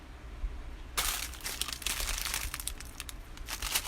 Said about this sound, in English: So I'm just going to trim it a little bit with my scissors.